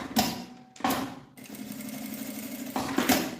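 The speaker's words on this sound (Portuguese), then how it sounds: "Vou passar uma costurinha em cada lateral, um de cá e um de cá." Close sewing machine stitching the sides of a bag handle in short runs, with a couple of quick bursts followed by a longer steady whir.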